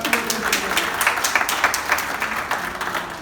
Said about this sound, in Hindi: जोरदार ताली बजाया करो।